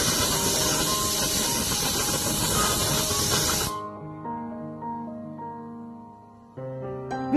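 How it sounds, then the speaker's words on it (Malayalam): Pressure cooker on high flame, cooking Kerala sambar, hissing steam in a loud, steady spray for several seconds before it cuts off abruptly, leaving quieter tonal kitchen sounds. "ഇനി കുക്കർ അടച്ച് പ്രഷർ കുക്കർ വെയിറ്റ് ഇട്ട് ഹൈ ഫ്ലെയിമിലാക്കി 6 വിസിൽ വരണവരെ കാക്കുക."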